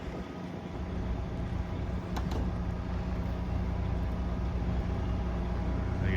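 An old Austin truck pulling away at a scrap sale, its engine a steady low rumble mixed with wind noise that grows slightly louder across the clip.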